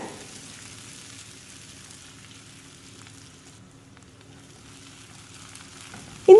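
Onions sautéing in a pan for mutton varuval give a steady, soft sizzle that runs the whole time at low level. A louder knock or clatter cuts in right at the end.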